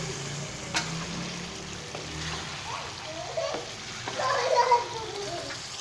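Boiled pumpkin being stirred into a spiced tadka in a cooking pan, with soft scraping and a low sizzle that swells into a brief louder burst of frying and clatter near the end.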